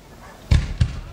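Fireworks go off over a beach during a festival, two deep booming thumps roughly a third of a second apart, set against faint background noise.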